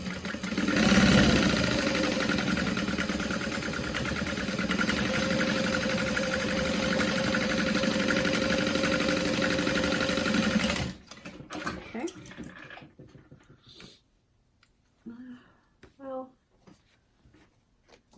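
A sewing machine stitching piping along the outside of a tote bag runs in one steady, loud whirring burst of about eleven seconds, then stops, leaving quiet handling noises and someone talking.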